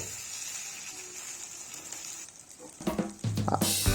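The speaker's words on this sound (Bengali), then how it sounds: "মশলাগুলো ভালোভাবে ভাজা করবে" Spices frying in a pan with a splash of water: a soft, even hiss at first, then louder bursts of stirring and scraping with a stronger sizzle toward the end.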